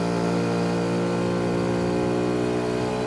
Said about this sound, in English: Just waiting for the throttle response to liven up. This engine needs about 95 Celsius before I can give it some welly.